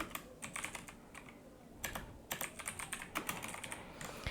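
Text is typed on a computer keyboard in quick, irregular bursts of close key clicks separated by a short pause, with no voices.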